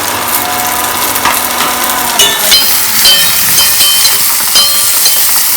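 Tomatoes drop into a hot pan of oil with cloves and cardamom for a Kerala egg curry, setting off a loud, steady sizzle and hiss with a few clinks of utensils and no talking.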